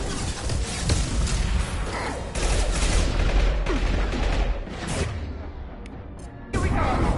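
Heavy gunfire in a Mass Effect-style shooter video game, with loud sustained bursts of rifle fire and impacts that crash together in dense waves, broken by a short lull before the shooting resumes.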